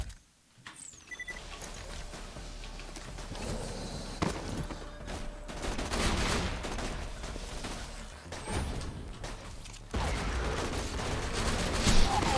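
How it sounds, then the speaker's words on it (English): Hip-fired gunfire in Borderlands 2 during a raid on Digistruct Peak, repeated shots crackling steadily through a busy mix of battle noise, growing louder toward the end. "so I can at least hip fire it"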